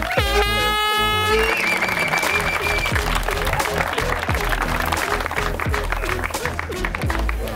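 Blasts of an air horn open over crowd applause at an enduro championship podium ceremony in Nagytarcsa, then the horn stops and clapping and cheering continue with an announcer's amplified voice.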